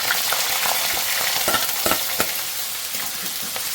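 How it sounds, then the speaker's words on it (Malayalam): Ginger, green chili, mustard seeds and curry leaves fry in hot oil for a pearl spot fish curry, making a steady dense sizzle with scattered crackles and pops and no talking. "ഇഞ്ചിയും പച്ചമുളകും കൂടി ചേർത്ത് കൊടുക്കാം."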